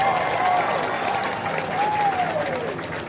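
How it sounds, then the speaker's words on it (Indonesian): Audience applause at the opening ceremony of a national community-service program held in a university stadium, steady and dense for about three seconds, with a sustained voice or tone gliding over it. "Silakan Bapak Ibu berdiri, beri tepuk tangan"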